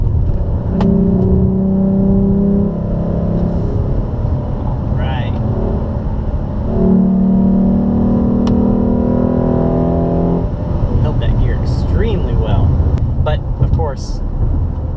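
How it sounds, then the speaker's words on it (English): Steady low road rumble and tire drone from inside a moving 2015 Ford Taurus, continuous and fairly loud, with a person talking over it and a few brief high squeaks. "as you can hear, the road noise."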